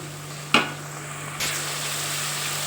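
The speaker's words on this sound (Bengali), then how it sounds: "এবার ভালো করে আমি মশলাগুলো কষিয়ে নেব" Masala frying in hot oil for a duck egg curry gives a steady close sizzle, with a sharp hiss at the start and a second surge about a second later as the spices are stirred.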